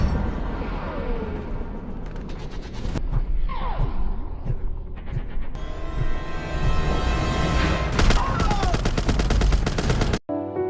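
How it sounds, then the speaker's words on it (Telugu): Machine gun fire aimed at prison guards in the action film Escape Plan, rapid bursts of gunfire mixed with shouting, impacts and a loud busy film soundtrack, continuing almost without a break. "మిషన్ గన్ తీసుకుని ఎదురుగా వస్తున్న గార్డులపై కాల్పులు ప్రారంభించాడు"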